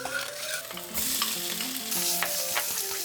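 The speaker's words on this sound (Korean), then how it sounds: "삶은 달걀을 구워줍니다." Boiled eggs fry in a pan after onions were sautéed in butter, giving a steady close sizzle with occasional stirring scrapes and no voices.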